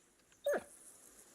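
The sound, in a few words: dog whimpering in the video game Kingdom Come: Deliverance 2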